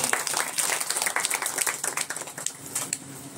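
A church congregation claps together during a wedding sermon, a dense, steady patter of many hands at moderate loudness that lasts throughout, with faint voices mixed in.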